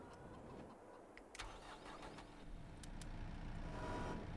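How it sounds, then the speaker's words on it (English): A skid steer engine cranks and starts in Farming Simulator 22, a faint low rumble building into a steady running hum. "Grab our new skid steer."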